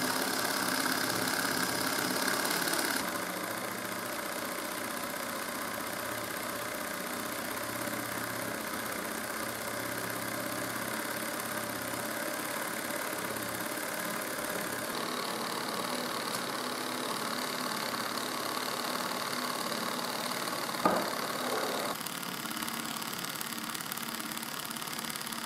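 A small Hielscher model steam engine runs steadily with a quiet, even mechanical hum. Its tone shifts slightly a few times, and a single sharp click comes near the end.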